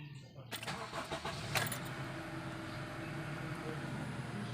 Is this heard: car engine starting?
yes